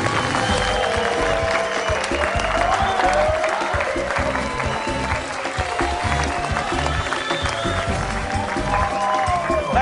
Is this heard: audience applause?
yes